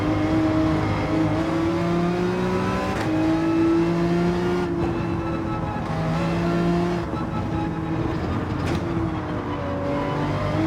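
Porsche 911 cup car engine in a racing video game, a loud, steady, high-revving drone with strong harmonic tones rising and falling as the car accelerates and shifts through corners, with occasional tire squeal and no talking.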